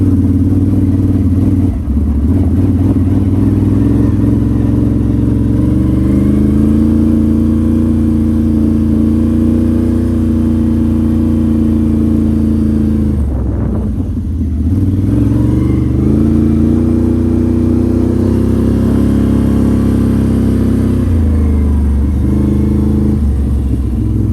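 A 2022 Can-Am Renegade 1000 XXC ATV with an HMF exhaust and flashed ECU runs at full throttle, its loud, steady engine roar droning close by with a few brief dips, like shifts, before it surges back.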